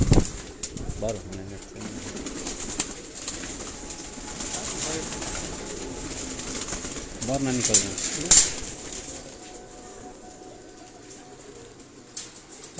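Migratory pigeons kept in a rooftop cage coo in low, repeated throbs while someone talks over them, with a few louder bursts that may be wing flaps.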